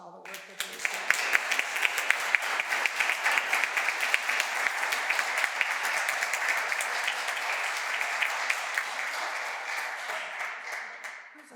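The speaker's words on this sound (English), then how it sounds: "let's give a round of applause for all the work that you're doing" Audience applause at a town council meeting, a dense burst of many hands clapping that rises quickly, holds steady for several seconds, then fades, with talk faintly beneath.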